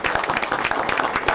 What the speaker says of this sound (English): Let's stop and give Mary a round of applause.